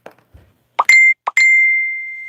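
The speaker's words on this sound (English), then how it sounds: "I forgot to silence my phone." A phone notification rings out at close range: a few soft plopping taps, then two bright chiming tones, the second one holding and slowly fading, with no talking.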